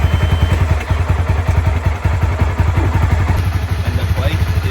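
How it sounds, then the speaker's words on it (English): A motorcycle engine idles close by after starting, with a rapid, steady thumping beat that holds evenly and loud throughout. "Kind of hear the bike there turn on."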